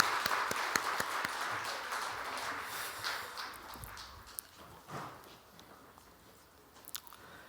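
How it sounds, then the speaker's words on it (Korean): Clapping from a dawn prayer service congregation, dense at first and then thinning and fading, with a few scattered louder claps toward the end. "우리 박수로 감사합니다."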